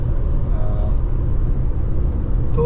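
A car cruises along the Lucknow-Agra Expressway on smooth tarmac, producing a steady, loud road rumble and engine whir that stays constant throughout, with no talking.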